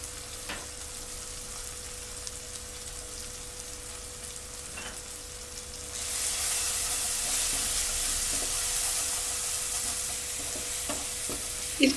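Tomato masala with red chili powder, turmeric and salt sizzles steadily in a pan while being stirred, the frying growing louder and brighter halfway through, with scattered scrapes and clinks of the spoon and no talking.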